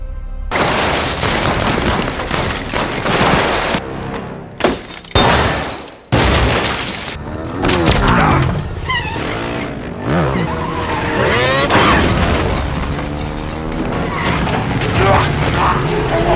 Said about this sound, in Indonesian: Sebuah aksi kejar-kejaran dan baku tembak yang sangat menegangkan